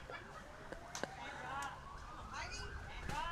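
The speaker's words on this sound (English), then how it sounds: "Sirens in the background." Emergency vehicle siren wailing in the background near a women's fours lawn bowls final, a faint rising and falling tone that runs under nearby voices and scattered clicks.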